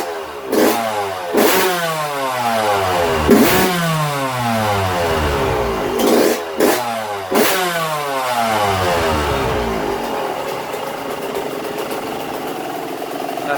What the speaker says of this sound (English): I'm going to give her a couple full throttle flips just to make sure she's cleaned out and the power valve's functioning properly.